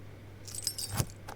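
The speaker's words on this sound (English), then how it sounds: "Oh yeah, my keys." Keys jangle briefly in the video game Judgment, a few quick metallic clinks and rattles over a low background hum, with no talking.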